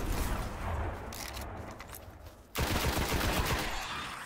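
Sustained rapid gunfire from a red-dot-sighted gun in the video game Destiny on PS4, shots packed into a dense rattling stream that surges louder partway through and keeps going to the end.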